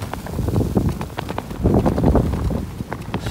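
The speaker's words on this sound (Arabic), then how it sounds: "الريح بزاف، الريح راه مايمكنش واحد الريح كاين عاصيف" Strong desert wind buffets the microphone in steady low rumbling gusts, with irregular thumps and rustles through the whole stretch and no voices.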